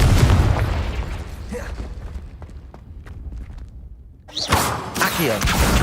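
A Confringo blasting spell goes off in Hogwarts Legacy with a sudden loud burst and crackling blast after a quieter stretch of scattered thuds and footsteps.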